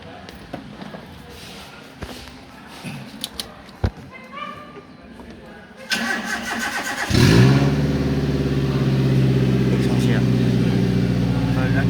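A car engine cranks and catches after the air filter has been cleaned, settling into a steady close idle, with the air conditioning switched on. Scattered clicks and handling noises come before the start, and nobody speaks.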